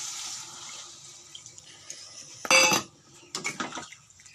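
Hot water is poured into a pan of soybean curry as it simmers. There is a brief close splash and gush, then clinks of a pot and utensils, with quiet kitchen background and no talk.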